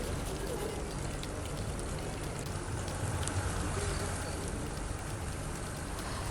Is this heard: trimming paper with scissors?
no